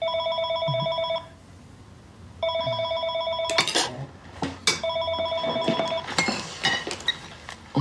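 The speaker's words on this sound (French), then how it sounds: "Je coupe la sonnerie." A landline telephone bell rings in a family home in bursts of steady electronic trilling, pausing between rings, then continues under a few sharp clatters and handling noises.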